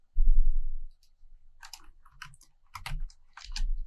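Keys clack on a computer keyboard in short bursts of typing, close and crisp. A brief thump comes first, then the clusters of keystrokes follow with pauses between them in a quiet room.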